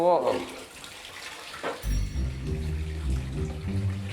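A tap runs to refill a bath in a filthy bathroom. Brief talk and a clatter come first, then water gushes steadily and fairly close for the last couple of seconds.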